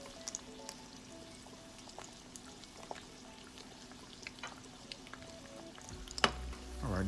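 Eggs cook over easy in a pan, a faint, steady sizzle with scattered small pops and crackles, rising near the end with a louder clatter and scrape as the pan is handled.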